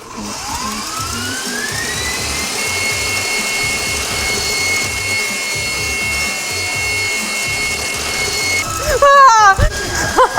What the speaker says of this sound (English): We're gonna be adding this butter just a few tablespoons at a time just so it doesn't overwhelm the mixer